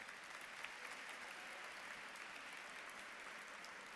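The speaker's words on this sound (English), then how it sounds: "So give yourselves a round of applause." Sustained applause fills a hall at a scholarship fund dinner, a dense, even wash of clapping from a large crowd lasting throughout.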